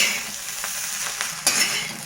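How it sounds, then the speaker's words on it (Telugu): Egg fried rice stir-fried over high heat, a continuous loud sizzle with scraping and stirring scuffs of a spatula in the pan, close and without talk. "ఇప్పుడు హైలో పెట్టి బాగా వేసుకోవాలండి రైస్ని."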